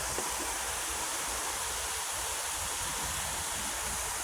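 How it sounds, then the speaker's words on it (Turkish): Waterfall at Şelale Park in Serdivan, a steady, dense roar of rushing water filling the whole clip without pause, with no voices. "Şöyle bir şelale görüntüsü alalım."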